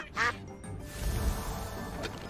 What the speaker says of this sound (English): That is one knocked out duck.